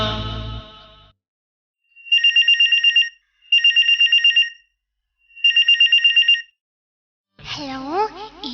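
A telephone rings in three electronic bursts of rapid trilling tones separated by short pauses, clear and close, with voices just before and after.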